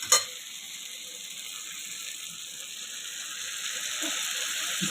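Tomato, onion, chili and garlic-ginger paste hitting a hot pan while cooking a tangra fish curry, giving a steady close hiss of sizzling that holds evenly throughout, with a brief sharper spatter at the start and no talking.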